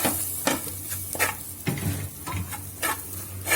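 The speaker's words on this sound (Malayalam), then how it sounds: "എല്ലാം ചേർത്തു ഇതൊന്ന് ഇളക്കുക നന്നായിട്ട്" Chili and spice powders sizzle in hot oil for a Travancore-style fish curry while a spoon stirs and scrapes the pan in repeated close strokes, with steady frying underneath.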